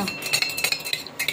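A spoon clinks and scrapes rhythmically against a glass while stirring medicine drops into hot water, a quick series of bright, close metallic taps.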